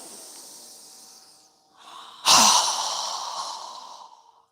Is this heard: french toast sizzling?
no